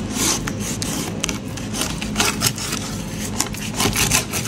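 A sharp knife slices through bluefin tuna belly (toro), making repeated close rasping, sawing strokes that come in uneven bursts throughout.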